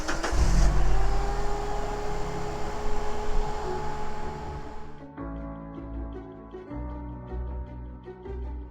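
A car drives along a road near Kenilworth on the Sunshine Coast, its engine hum and tyre-road noise steady throughout, with a clear shift in the tone of the drone partway through.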